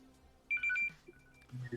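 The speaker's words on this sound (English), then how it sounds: "The bat phone ringeth." A telephone rings in short electronic bursts, a few clear trills close by, followed by faint low rustling.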